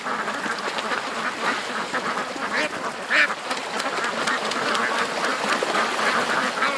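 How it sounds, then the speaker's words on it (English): A flock of ducks quacks continuously, with many overlapping calls and no gaps, and one louder quack stands out near the middle. "Doug doesn't want the ducks on the land today."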